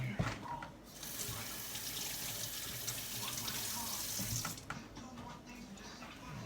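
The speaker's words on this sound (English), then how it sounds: "let me rinse my hands off here" Water runs steadily from a tap onto rinsing hands in a sink, a continuous close splashing hiss that stops abruptly near the end.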